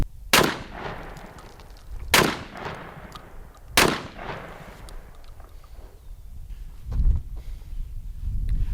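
A Mossberg 940 Pro shotgun fires 1 ounce slugs, three loud booming shots spaced roughly two seconds apart outdoors, each trailing off in a brief echo, followed by quieter rustling.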